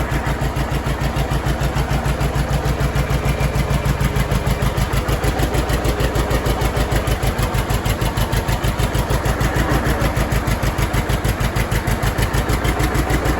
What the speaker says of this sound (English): Keep it running for a few minutes so it warms up a little bit.